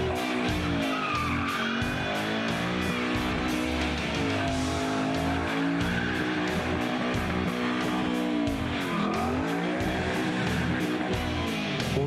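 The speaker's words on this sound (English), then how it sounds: "Whether it's squealing its tires on a burnout" Continuous engine roar from a Ford Mustang during a burnout, tires squealing and screeching on pavement, steady and fairly loud throughout, without any talking.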